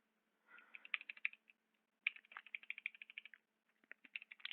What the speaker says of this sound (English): I actually use the keyboard for my attacks.